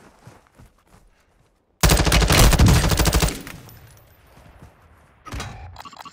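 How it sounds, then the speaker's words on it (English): Gunfire in Call of Duty: Modern Warfare II starts after a quiet stretch as a loud, sustained burst of automatic fire lasting over a second, then fades into a rumbling tail before a shorter burst near the end. "Taking enemy fire."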